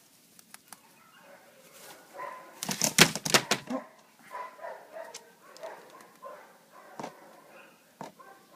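Dogs bark and whimper close by in a home, a short cluster of loud barks followed by softer scattered yips and whines, with no talking over them.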